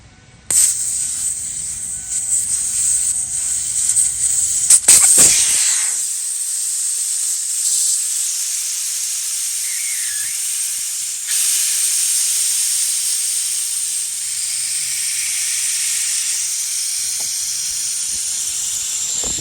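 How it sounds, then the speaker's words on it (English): Air hisses steadily out of a car's front tire valve, loud and close at first, then a quieter continuous hiss that carries on to the end, with no talking. "Let's take the air out the front tire."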